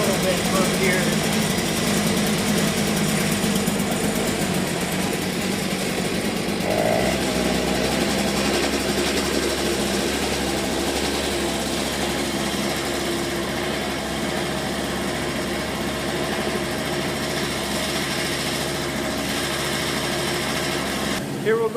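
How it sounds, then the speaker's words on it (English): A small gasoline engine runs steadily after being started and primed, a loud, continuous buzzing drone close by that settles into an even idle partway through, with no voices over it. "So I'm going to let the engine run a little bit from here."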